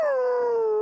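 A dog lets out a single near, loud, drawn-out whine that slowly falls in pitch, heard alone without talk.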